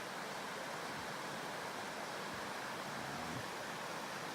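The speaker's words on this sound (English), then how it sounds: "Another gorgeous pool with water flow through it." River water pours steadily through a pool in a big canyon along the Salmon Berry River in Oregon, a constant broadband rushing wash, fairly near and unchanging, with no voices.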